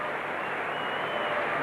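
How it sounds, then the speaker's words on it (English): A capacity cricket crowd at Melbourne gives a departing batsman a standing ovation, a steady, dense wash of applause heard from a distance without a break. "what a magnificent reception this young man's getting from the capacity crowd"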